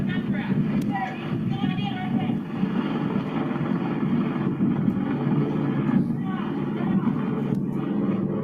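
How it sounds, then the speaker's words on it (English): Helicopter flying in the background, a steady low droning rumble that runs throughout beneath loud, overlapping voices. "You can hear the helicopter in the background."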